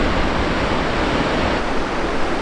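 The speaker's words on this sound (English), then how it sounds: "This is Tumbling Falls" Tumbling Falls on Tumbling Creek gives off a loud, close, unbroken roar of rushing water that stays constant throughout, with no voices.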